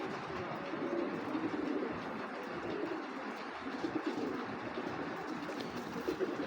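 Large-headed hammer pigeons in a loft coo softly in repeated low murmurs beneath a constant, dense rumble of background noise.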